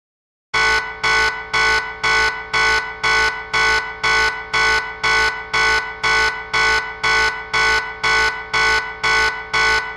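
A loud Emergency Alert System attention tone starts after a brief silence and repeats as evenly spaced electronic pulses, about sixteen in a row.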